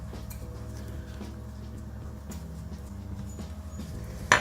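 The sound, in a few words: cutting sausages on a chopping board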